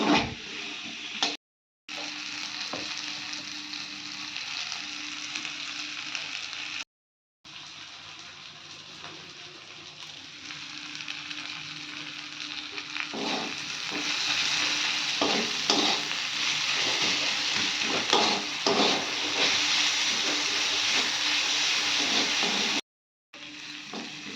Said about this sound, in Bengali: দিয়ে দিলাম কাটা পেঁয়াজটা একটু ভালোভাবে ভেজে নেবো